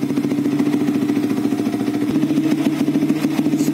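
Yamaha R15 V3 motorcycle fitted with an R9 Misano racing exhaust idles close by, a steady, fairly soft, mellow burbling rumble with light mechanical clatter throughout and no speech.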